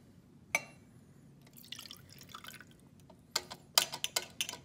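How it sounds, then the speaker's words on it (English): Water poured into a coffee cup calorimeter in a lab, heard as faint drips and splashes, quiet and close, with a few sharper taps and trickles toward the end. "We'll go ahead and add this water to the calorimeter."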